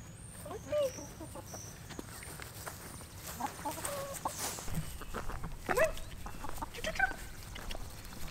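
Backyard homestead chickens cluck and call in short bursts at moderate distance, with a person talking intermittently among them.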